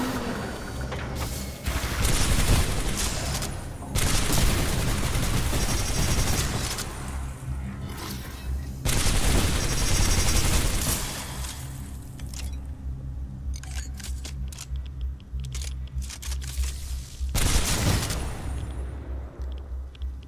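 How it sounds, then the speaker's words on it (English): Energy gun firing in the video game Titanfall 2, loud sustained bursts of rapid fire in several long stretches separated by brief pauses, dense and close, with no talking. "This energy gun doesn't feel as great as I thought it did"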